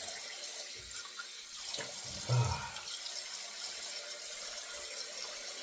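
A bathroom tap runs in a steady, moderate hiss while a razor and face are rinsed, with a brief splash and clatter midway and no talking.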